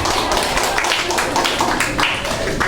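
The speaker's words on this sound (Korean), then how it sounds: "서로에게 박수를 치면서 오늘의 예배를 시작했으면 좋겠습니다" Congregation at a university chapel service clapping hands in welcome: dense, steady applause fills the room, many hands clapping together at a moderate, even level, with only faint sound beneath it.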